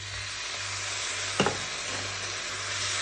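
Yakisoba noodles tossed with spicy seasoning in a hot pan give a steady close sizzle throughout, broken by one brief clatter of utensil stirring partway through.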